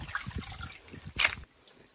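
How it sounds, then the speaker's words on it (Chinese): Water trickles and drips from a soaked duck as it drains, faint close splashes and dribbles with one brighter splatter near the end. "沥干水分"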